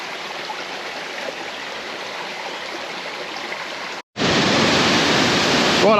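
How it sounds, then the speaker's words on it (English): Waterfall at Josephine Falls with water spray, a steady broadband rush that cuts out briefly, then returns louder and closer, as if the listener moved nearer the falling water. "part of Josephine Falls. There's a bit of water spray around."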